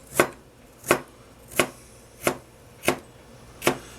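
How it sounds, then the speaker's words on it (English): A knife slicing through a cucumber on a cutting board, six crisp, evenly spaced cuts landing about every two-thirds of a second, close and clear with no talking. "put the knife right against your fingers, and then when you slice through it, you keep going at the same angle"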